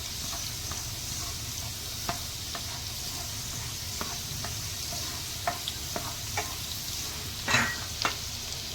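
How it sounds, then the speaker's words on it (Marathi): Garlic sautés in hot oil in a pan for a prawn dish, a continuous close sizzle with scattered light clicks and taps as it is stirred, and no talking. "लसूण व्यवस्थित परतून घ्यायचं।"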